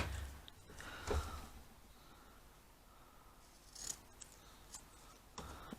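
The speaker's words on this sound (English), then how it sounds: "Cut this off, but don't cut through the stitches." Scissors snip thread on a sewn owl clock prototype, a few quiet, isolated cuts spaced apart in a hushed room.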